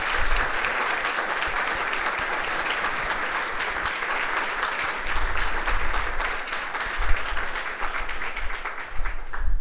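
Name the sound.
loud applause for teachers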